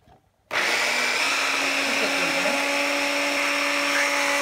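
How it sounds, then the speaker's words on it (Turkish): An electric blender switches on abruptly and runs at a steady high whine, mixing a homemade anti-wrinkle face mask mixture, loud and close with a constant tone. "Bu şekilde kırışımı blenderdan geçiriyorum."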